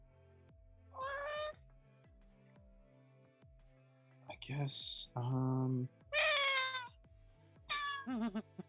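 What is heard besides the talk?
pet cat meowing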